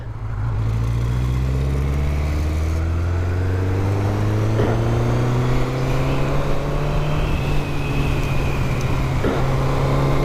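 A 1985 Honda Nighthawk motorcycle on a test ride, its engine droning steadily and rising slowly in pitch as it accelerates, close and loud under wind rush.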